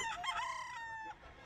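A five-month-old Boston Roundhead gamefowl rooster crows once, close and loud, in one drawn-out call that fades at the end, heard at a pet market.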